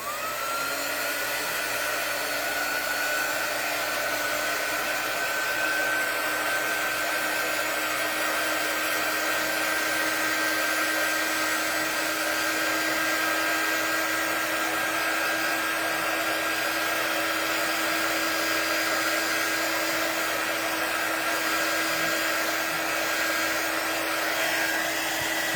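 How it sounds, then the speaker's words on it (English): A heat gun blows steadily for a long stretch while drying ink on fabric, a loud, constant whirring hiss with a faint whine and no change in pitch. "I'm going to dry this a little bit with the heat gun. It's going to be loud"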